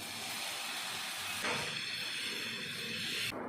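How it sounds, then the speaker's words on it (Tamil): Dosa batter sizzles loudly on a hot pan, a steady broadband hiss that swells briefly partway through and continues unbroken without talk. "தோசையை வார்த்தரலாம்."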